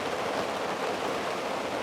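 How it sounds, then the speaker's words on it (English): Heavy rain pours outdoors as a constant, dense hiss of falling water, steady and fairly quiet throughout, with no voices. "That is proper rain today."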